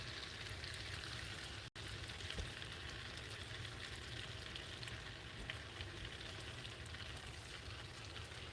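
Sweet potato fried pies frying in hot oil in a 10-inch skillet, a steady dense crackling sizzle that runs throughout, with one brief dropout near the start and no talking.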